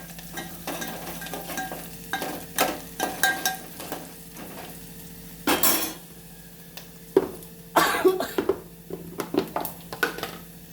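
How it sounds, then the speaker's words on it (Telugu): Salt is stirred into boiling water for upma, a spoon scraping and knocking against the metal pot in irregular bursts over a steady low bubbling hum, close by with no voice. "ఆ నీళ్ళు మసిలినాక కొద్దిగా అంత ఉప్పు వేసి తగినంత ఇక అందులో కలుపుతాను"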